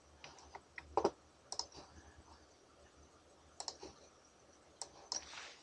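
Sharp computer mouse clicks while editing in Adobe Flash come in small scattered bursts, some double clicks close together, separated by quiet pauses in a calm room.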